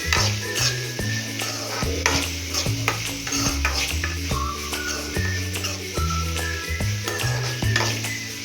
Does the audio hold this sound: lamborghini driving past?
no